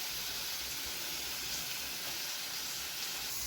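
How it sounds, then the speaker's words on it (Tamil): Chopped onions sauté in a pan for idli upma, giving off a steady, soft hiss of sizzling that runs evenly throughout with no talking. "வெங்காயம் நல்லா வதங்கிட்டு இருக்குது"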